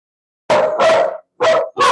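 Several dogs bark at home in four sharp, loud bursts with short gaps between them, heard clearly with no talking.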